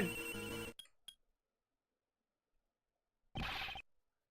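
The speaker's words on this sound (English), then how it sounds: "Her cell phone." Cell phones ring in the Ace Attorney Investigations game, a loud electronic ringtone burst that cuts off, two brief blips, then silence before a second short ring.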